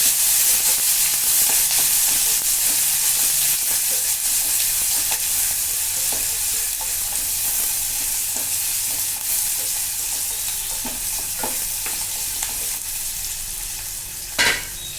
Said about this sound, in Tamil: வெங்காயம், பச்சை மிளகா, கருவேப்பிலை. லைட்டாக சாட்டே பண்ணிக்கலாம்.